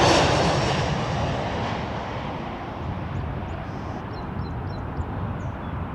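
A fixed-wing airliner rolls for takeoff on runway 05 at Toronto Pearson Airport at night, its engine roar loud and broad at first, then easing slightly as it holds steady with no voices.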